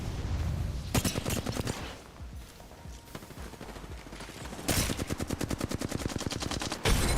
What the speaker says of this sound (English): Beautiful shots happening right now